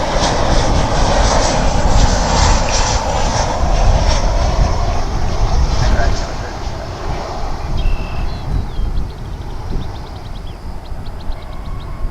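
A fixed-wing airliner lands at DFW Airport, its loud, continuous engine roar and broadband rush dominating before easing to a lower, steadier rumble midway through, with no talk over it.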